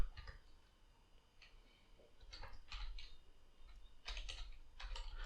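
Someone types on a computer keyboard in short, quiet bursts of close key clicks, with brief pauses between the runs.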